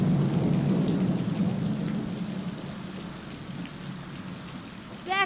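Steady rain pours down during a thunderstorm, a dense, constant wash with a low rolling rumble of thunder underneath. The rumble eases slightly toward the end. No voices are heard.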